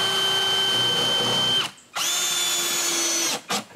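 A cheap jigsaw fitted with a dull, poor-quality blade cuts through wooden soffit boards, buzzing loud and close in two bursts separated by a brief pause, with a short final burst at the end.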